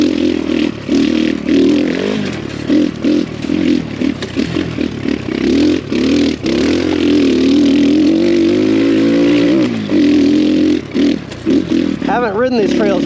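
An X Pro Storm 150 DLX dual sport motorcycle works along a rocky trail with a steady droning engine, frequent clattering knocks from the bumps and wind noise, while a rider talks over it throughout.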